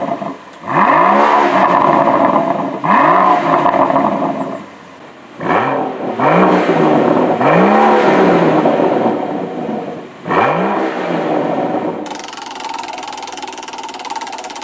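A BMW V12 supercar engine revs hard in several loud, rising bursts separated by brief drops, followed by a lower steady running tone at the end.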